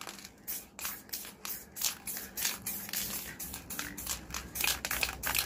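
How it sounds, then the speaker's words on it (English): Repeated bursts of hissing from a spray can of clear coat in short pulses, close by, sprayed onto scooter parts, with some handling noise between them. "Just spraying all of these with clear coat."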